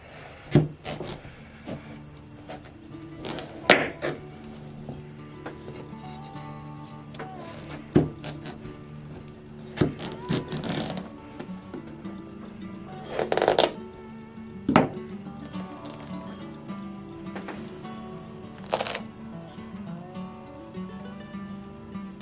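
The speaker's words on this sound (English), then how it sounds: "you're gonna scoop out all that inside flesh and seeds and set them in a bowl" Seeds and flesh are scooped out of a cut tromboncino squash, making rough scraping and rasping strokes in irregular bursts with quiet pauses between them, close and fairly clear.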